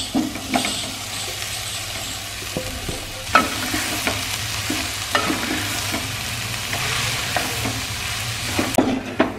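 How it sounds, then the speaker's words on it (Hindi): Potatoes being stirred into sizzling samosa filling in a pan for Punjabi samosas, a steady close fry with repeated scraping strokes of the spoon and no talking. "ये सिर्फ मैंने मिक्स किया है"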